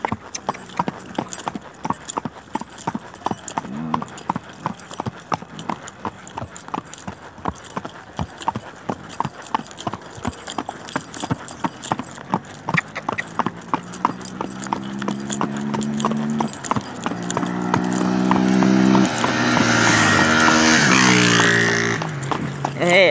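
A paint horse's hooves clip-clop in a steady, quick rhythm on a city street at night, close and fairly loud throughout, with other street noise swelling toward the end.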